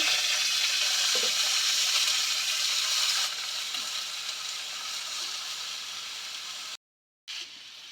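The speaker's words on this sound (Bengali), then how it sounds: "এখন আমি চালটা কড়াইয়ের মধ্যে দিয়ে দিচ্ছি" Rice sizzles and hisses steadily as it fries in hot oil in a kadai. The sound is loud and close and runs unbroken until a short cut near the end.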